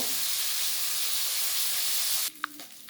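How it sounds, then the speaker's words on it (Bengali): Fish heads frying in hot oil, a loud dense hiss for about two seconds that cuts off abruptly, followed by a brief metallic clink and quieter sizzle. "আগে মাছটা প্রথমে আমি ভালো করে ভেজে নেব"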